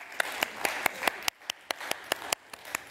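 A single person's hands clapping in a slow, steady rhythm, about a dozen distinct sharp claps, close and fairly quiet with no crowd behind them.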